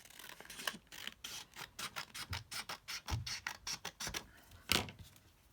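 Paper being trimmed for an index card collage, a quick run of close, crisp snips and slicing scrapes in an irregular rhythm, fairly quiet, with no speech.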